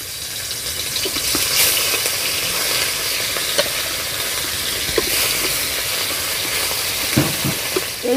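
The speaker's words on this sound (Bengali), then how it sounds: "কড়াই গরম হয়ে গেছে, এবারে দিয়ে দেবো মাছগুলো।" Bhola fish sizzling as they fry in hot mustard oil in a heated wok, a steady loud crackling hiss throughout with a few stirring knocks near the end.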